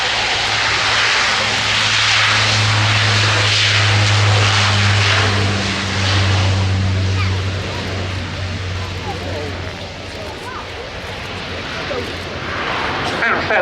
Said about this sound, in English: fairly leaping into the air with a max performance takeoff to start these flypasts by this aeroplane